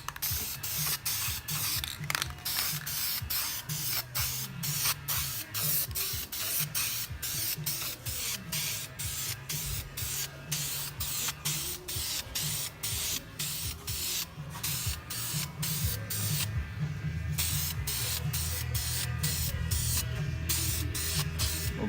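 Spray paint goes on in short repeated hissing bursts as a second coat is applied to a 1994-2004 Mustang GT/V6 steering wheel, a close, rhythmic series of sprays over low background hum.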